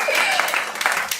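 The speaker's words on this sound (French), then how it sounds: "je croyais que tu allais acclamer." Short burst of clapping and acclaim from a church congregation at an intercession service, loud and close, with voices mixed into the applause.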